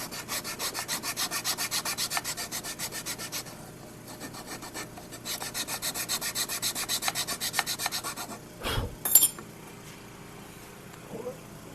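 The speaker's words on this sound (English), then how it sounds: "So I'm just paring off a slight trim here." A chisel pares a slight trim from a wooden guitar neck joint by hand, making steady rapid rasping scrapes in long runs with a brief pause, close up, ending with a couple of sharper knocks.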